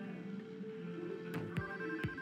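An in-game telephone rings in the heist game Payday, a few electronic ring tones that sit faint and mid-distance over steady background ambience.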